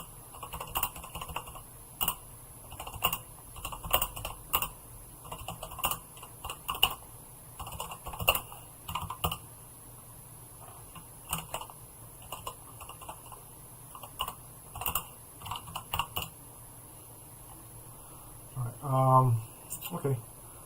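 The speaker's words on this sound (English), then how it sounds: "let me just type something real quick for the crew here" Computer keyboard typing during a live market trading stream, with bursts of quick clicky keystrokes in irregular runs, fairly close and moderately loud. A brief low hum or voice-like tone sounds near the end.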